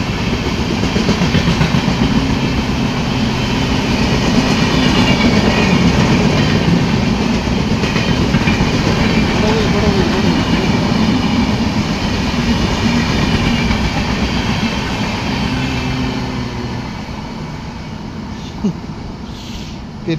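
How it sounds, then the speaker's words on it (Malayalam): The Tirunelveli–Gandhidham Humsafar Express rolls loudly through Irinjalakuda railway station, a steady clickety-clack of wheels and carriages rumbling for nearly the whole stretch before easing off slightly near the end. "തിരുനെൽവേലി ഗാന്ധിധാം ഹംസഫർ എക്സ്പ്രസ് ആണ് പോയത്."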